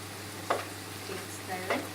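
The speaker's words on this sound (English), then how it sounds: "stir fry it until it smell and get brown." Garlic and ginger sizzle softly in a pan for Chinese fried noodles, with a couple of brief utensil scrapes over a low, even frying hiss.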